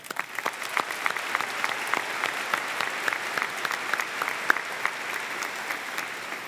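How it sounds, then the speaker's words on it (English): The audience at a high school graduation ceremony claps for the participating students, a sustained, even round of applause from a large group, fairly close, with crisp individual claps popping out across several seconds. "I would like to say thank you with a round of applause"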